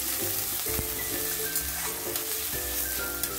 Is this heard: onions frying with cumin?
yes